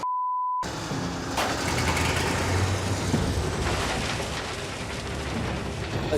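A gold mining wash plant starts up after a brief warning tone, then a dense, loud mechanical roar of engine and machinery runs steadily without letup.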